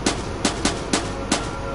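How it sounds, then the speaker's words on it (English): Five sharp knocks in a quick, uneven rhythm, a special door knock in the video game Borderlands, play over a steady background hum, distinctly patterned like a coded knock. "The knock sounds like this."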